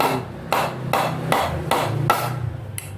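Nails are hammered into the side of a door frame so they grip mortar, with about seven sharp, evenly spaced blows ringing loud and close over a faint scraping between strikes.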